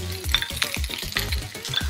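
Onion cubes and capsicum frying in a pan for restaurant-style chili chicken, a close sizzle broken by repeated rhythmic scraping and tossing strokes against the pan, with no voices.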